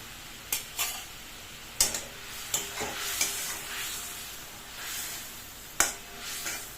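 Eggs are stirred into a spiced masala of salt, cumin, chili and coriander powder in a pan, giving a soft, steady sizzle broken by irregular, sharp spatula scrapes and clicks against the metal, with no talking.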